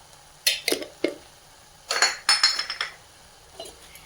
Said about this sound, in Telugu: వేసి ఒకసారి మిక్స్ చేసేద్దాం.